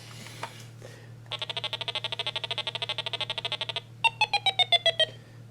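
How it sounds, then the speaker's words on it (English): Electronic beeps from a 1979 Parker Brothers Stop Thief board game signal the thief riding the subway: a quick run of evenly pulsed tones, then a brief pause and a few louder descending chirps, clear over a steady low hum. "that's the sound of the thief using the subway and then getting off."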